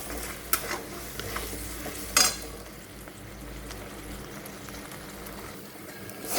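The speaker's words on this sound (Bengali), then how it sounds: "মশলাটা ভালো করে ভাজা হোক।" Spice paste of turmeric and salt, loosened with a splash of water, frying in a pan for katla fish kaliya: a soft steady sizzle runs throughout, with a few sharp clinks of a spoon against the pan.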